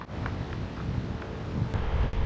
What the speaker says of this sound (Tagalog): Mukhang malakas ang hangin,